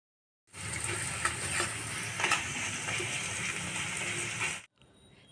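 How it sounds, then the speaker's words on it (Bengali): Two chopped medium onions dropped into hot oil with tempering spices sizzle and crackle loudly and steadily, a close, continuous frying hiss with no talk, cutting off abruptly near the end. "যে 2টো মিডিয়াম সাইজের পেঁয়াজ আমি কুচিয়ে রেখেছিলাম সেগুলো তেলের মধ্যে দিয়ে দিচ্ছি।"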